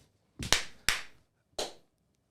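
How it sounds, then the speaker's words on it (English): Three sharp, separate hand claps in a quiet room, the first two close together and the third after a short pause, each crisp and moderately loud. "Can somebody clap for me?"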